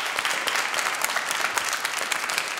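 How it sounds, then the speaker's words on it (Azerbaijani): A dense, steady roll of audience applause fills the whole stretch, many hands clapping together at an even loudness with no voices over it. "Cafar Musayev bir ürəkdən alqışlayaq birinci."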